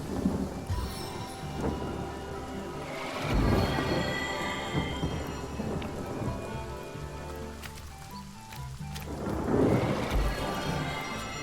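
A heavy rainstorm in the video game Divinity: Original Sin Enhanced Edition pours down as a steady hiss, with deep rumbles of thunder swelling and fading twice, and no talking.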